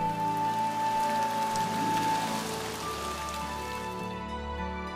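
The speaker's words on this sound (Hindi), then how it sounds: "बारिश की फुहार" Steady rain shower patters on a surface, a dense even hiss of drops that holds at one level throughout before easing slightly at the end.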